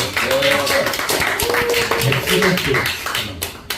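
Clapping from a Christian ministers' association congregation at an evening revival service in a church in Incheon, short and uneven, with a voice talking over it before it fades.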